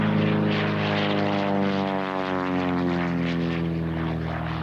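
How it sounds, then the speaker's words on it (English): A Pitts Special aerobatic biplane performing at an airshow drones overhead with a steady, loud propeller-engine buzz whose pitch slowly shifts as it passes, filling the whole stretch with no talk. "John Lilberg is flying a Pitt Special, the airplane that's called the Rolls-Royce of aerobatic airplanes."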